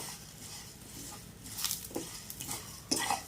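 Fenugreek, coriander and cumin seeds dry-roasting in a pan on a low flame give faint, soft stirring scrapes and light patter, with a few louder clinks of the utensil against the pan near the end.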